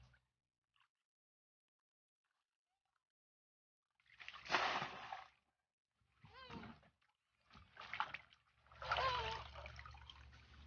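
Water splashes and sloshes in short bursts as a gutted, freshly caught fish is rinsed two or three times, with a quiet pause before the first splash and faint trickles between.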